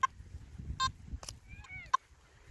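A Simplex metal detector in beach mode on a trashy beach gives short, jumpy, chirpy signal tones: several brief beeps spaced irregularly with a rising warble between them, over faint background rumble.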